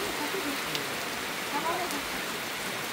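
Rain falls steadily on an outdoor wedding cooking area where chicken is being fried and beef is cooking in pots, a constant moderate hiss with scattered drop hits and faint voices in the background.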